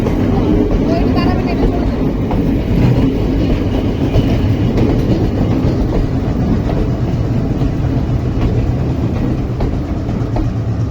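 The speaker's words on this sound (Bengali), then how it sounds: "এখন কিন্তু অলরেডি আমরা ট্রেনের আওয়াজ শুনতে পাচ্ছি, আর কিছুক্ষণের মধ্যেই কিন্তু এদিক দিয়ে ট্রেন আসবে" A train rumbles along a railway line in Sri Lanka, a loud, continuous roar of wheels and rolling stock with a steady rhythmic clatter throughout, close by.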